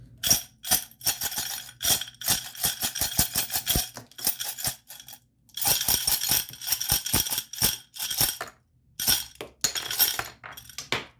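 Rapid bursts of crisp shuffling and riffling of tarot cards, flutters in quick clusters separated by short pauses, close and fairly quiet.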